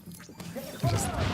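A short, crunchy blast in The Division, a muffled crash that swells near the end of a brief moment, sitting over low background game noise.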